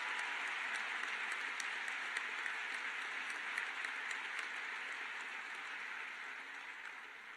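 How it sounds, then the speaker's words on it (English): A large audience at a university graduation ceremony applauds, a dense, distant-sounding wash of clapping that holds steady and then slowly fades. "That's worth a round of applause."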